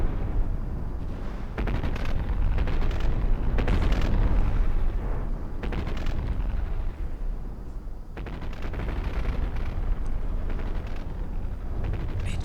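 A torpedo striking a battleship during a naval battle game: continuous heavy rumbling explosions and gunfire fill the scene, with several sharper bursts over the dense, loud background.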